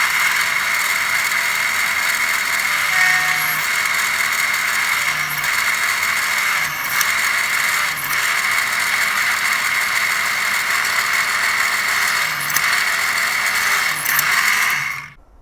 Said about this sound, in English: So we got Dad a drill press so we could use it.